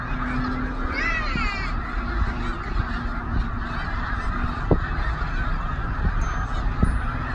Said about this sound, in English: Turns out they're snow geese.